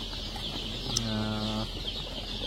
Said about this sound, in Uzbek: Mana shu jo'jalarimiz, do'stlarim